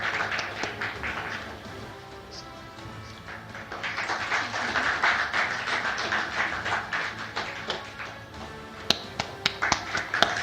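Audience applause at an awards evening in London as a guest is invited onto the stage: scattered clapping, thin at first, then thickening into steady applause with sharper individual claps toward the end.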